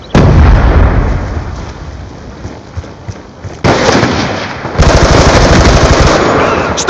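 Rapid automatic gunfire and blasts in a video game team deathmatch raid as a sticky grenade is thrown, loud and dense throughout, with a sharp burst near the middle and heavier fire toward the end.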